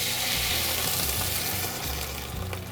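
Manila clams and garlic sizzle hard in a hot pan as white wine hits, a loud, dense hiss and crackle throughout the short stretch, easing slightly at the end with no voices.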